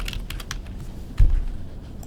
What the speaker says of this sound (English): Can I type my text? Let's see if I can type that.